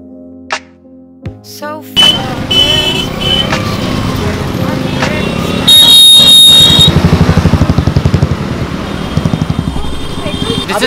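Motorbikes ride along a pedestrian and cycle track, engines passing loud and near in bursts amid traffic noise, with people talking over them.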